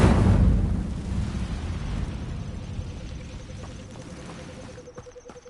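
Incendio fire spell cast in Hogwarts Legacy on PS5: a heavy whooshing burst of flame opens loud, then a rumbling fiery roar trails off and fades across several seconds, with no talking.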